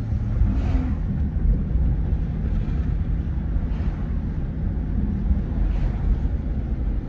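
Car driving along a road with a steady, loud low rumble of engine and road noise filling the cabin, wind buffeting through an open window, no voices over it.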